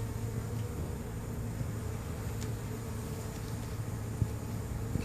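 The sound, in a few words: honey bees buzzing from a hive under a shed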